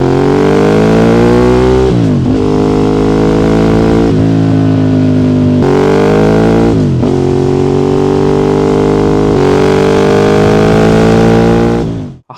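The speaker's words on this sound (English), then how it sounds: "It sounds exactly what you imagine a Ducati should." A Ducati 848 L-twin sport bike engine revving hard, loud and close, with several rising pulls through the revs separated by brief dips between shifts, cutting off at the end.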